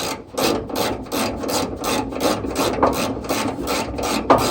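Rhythmic rasping and ratcheting of a wrench with an extension tightening a fender bolt on a 1978 Chevy C10 pickup, steady repeated strokes close up with no talk.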